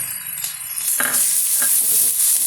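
Onion for a fenugreek curry dropped into a hot pan, a quiet moment then a sudden bright sizzle that swells into a steady hiss, with a few soft clinks of stirring, close and loud.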